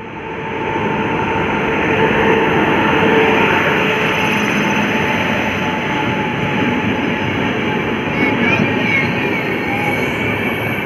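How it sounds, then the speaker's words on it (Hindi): Awadh Assam Express arriving behind a WAP-7 electric locomotive, a steady loud rumble of rolling coaches with faint wheel clatter and a brief squeal, continuous throughout. "WAP-7 के साथ आती हुई हमारी अवध असम एक्सप्रेस"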